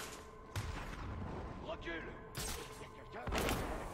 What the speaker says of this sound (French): Bouffe mes grenades, fumier.